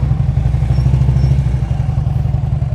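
A motorcycle putters at slow speed during an advanced riding skills practice session, with a close, loud, steady low engine thump and a rhythmic clattering pulse throughout.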